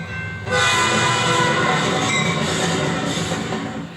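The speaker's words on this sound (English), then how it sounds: "The first one is a train approaching." A train approaching as a stage sound cue: a loud, steady rumble of wheels and cars starts abruptly after half a second and holds, with a sustained horn blast layered over it, close and continuous without speech.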